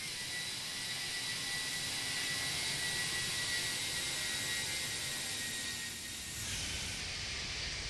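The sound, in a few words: Toliss A319 jet flyby in a flight simulator video game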